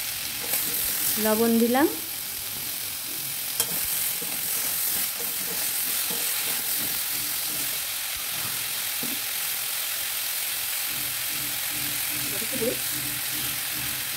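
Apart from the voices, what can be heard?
stirring tomato in frying fish dish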